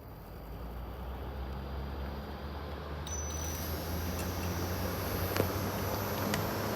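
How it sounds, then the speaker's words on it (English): A Furrion Chill Cube 18k RV air conditioner's exterior compressor starts up with a steady, low broadband hum and whir, joined midway by a faint high tone, running evenly and fairly quietly. "And that's the sound of the compressor firing up."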